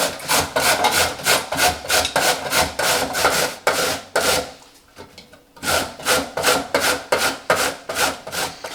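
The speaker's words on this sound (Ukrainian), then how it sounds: "Тепер на грубому терку, ось на такому грубому, я натираю моркву." A carrot is grated on a coarse grater in quick, rhythmic rasping strokes, close and loud, with a brief pause midway before the scraping resumes.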